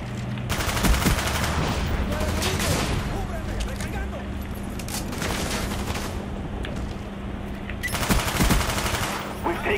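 Gunfire during a gunfight in a video game, with rapid bursts and fusillades of shots that keep a steady, loud, crackling wall of noise, with a short break partway through.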